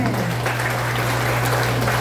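Church congregation applauding together, a steady even burst of clapping filling the room from start to finish over a low constant hum.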